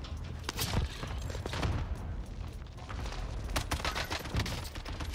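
Rapid gunfire in a Warzone video game match, a busy run of sharp shots and bangs with overlapping booms, loud and close, at a fast uneven rhythm, no talking.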